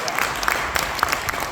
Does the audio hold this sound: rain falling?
no